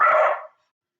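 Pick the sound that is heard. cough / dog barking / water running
dog barking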